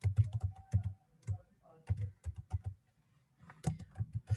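Typing on a computer keyboard while entering a MySQL query, quick bursts of close key clicks separated by short pauses, quiet and without talk.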